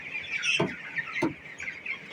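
Chickens cluck softly over a bright, busy farmyard chatter, with a couple of sharp knocks cutting through, as grown chickens of about one kilogram are weighed on a scale.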